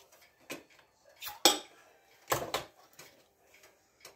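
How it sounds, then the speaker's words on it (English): Glass jar of green chilies being handled in a home kitchen while making butternut squash chili: several separate clinks and knocks, with a sharper clatter near the middle and another burst later, close and fairly quiet. "So next we're adding a jar of green chilies."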